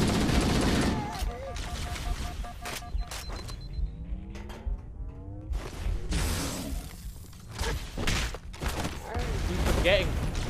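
Video game Halo firefight: bursts of rapid gunfire and sharp single shots mixed with energy-weapon whines and thuds, loud and near, with a player talking in between.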